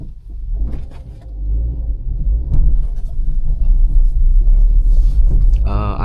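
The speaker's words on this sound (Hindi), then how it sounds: "थोड़ी सी रिवर्स करनी पड़ेगी गाड़ी क्योंकि आगे पत्थर है" A Hyundai i20 Elite backs up slowly on a narrow, stony forest road in Shimla, its engine a low steady rumble that swells slightly as it reverses, with a brief mechanical whir near the end.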